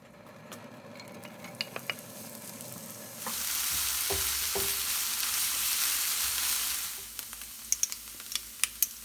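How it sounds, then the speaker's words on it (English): Pureed garlic and mild chilli powder drop into a hot pan and hiss into a loud, steady sizzle for a few seconds, then fade into light clinks of utensils and stirring. "In goes the garlic and the chilli powder."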